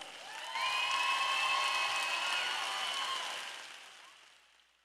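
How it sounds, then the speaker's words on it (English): A crowd at a high school graduation ceremony breaks into a round of applause, dense clapping that starts abruptly, holds steady for a few seconds, then gradually fades away. "Let's give them all a round of applause."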